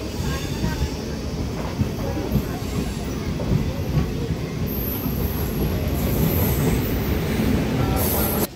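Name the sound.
DEMU passenger train departing Veldurthi station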